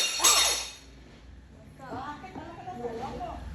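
A glass object falls and shatters indoors, giving one sharp, bright crash with tinkling fragments, followed by voices talking close by.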